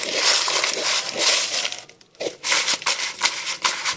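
Crispy homemade potato chips tossed with lemon powder, paprika and chicken powder, crunching and rustling in bursts as they are mixed, close and fairly loud with a brief pause midway.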